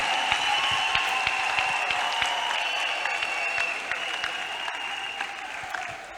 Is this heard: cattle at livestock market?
no